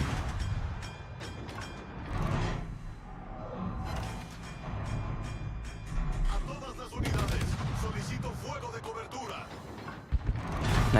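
Naval guns fire in World of Warships, with booms, explosions and mechanical clatter scattered over a busy game soundscape and someone talking throughout, ending in a sharp loud impact.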